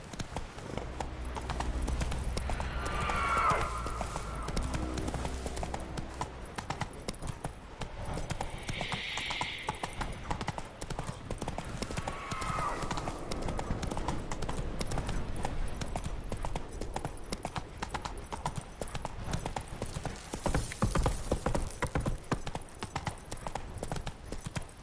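Roach the horse gallops in The Witcher 3, fast rhythmic clip-clop hoofbeats running continuously under low game ambience and music, with brief snorts or calls now and then.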